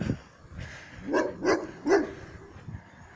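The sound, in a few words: Dalmatian dog barking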